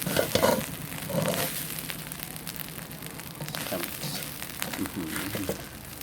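Quail stir-frying in a pan with soy sauce and chili, a dry-style spicy stir-fry. A steady close sizzle runs throughout, broken by a few louder scrapes and clatters, with a voice heard faintly at times.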